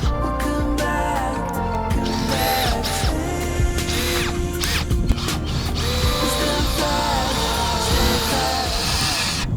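Power drill whirring steadily while pre-drilling into wood, running nearly continuously with busy workshop clatter and rattling around it, close and loud throughout.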